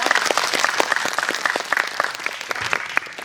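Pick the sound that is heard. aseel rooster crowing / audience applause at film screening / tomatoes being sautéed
audience applause at film screening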